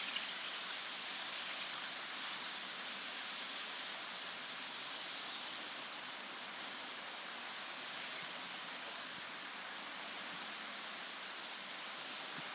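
Steady, dense rain falls outside over green, open ground, a soft continuous hiss that holds even and unbroken from start to finish with no voices.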